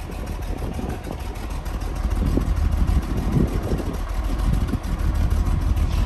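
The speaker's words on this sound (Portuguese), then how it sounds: "Ô Nicolas, deixa ele ligado um pouco. Pode deixar ligado" Engine of a Chevrolet Omega idling after being left running, a steady low rumble with a faint rhythmic pulse, close and constant, slightly louder toward the end.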